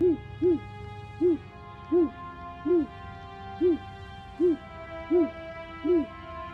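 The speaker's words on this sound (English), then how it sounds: "she can hear the owl" Owl hooting in a point-and-click adventure video game, a steady series of about nine evenly spaced two-note hoots heard alone over a soft ambient backdrop.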